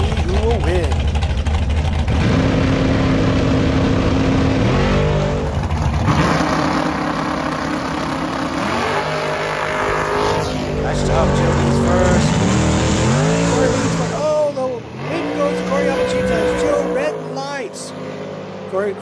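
Bracket drag race cars at Maui Raceway Park rumble loudly and roar down the strip, engines rising and falling over a steady drone, with a commentator talking over them throughout.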